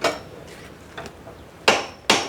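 Steel being struck by a hammer during metal fabrication work: four sharp metallic blows with ringing decay, two softer ones early and two loud, close strikes near the end, with no talk.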